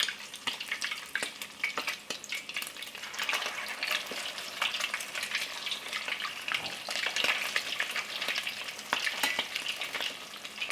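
Salmon cakes frying in hot oil, a steady close crackling sizzle with scattered pops that runs throughout without speech.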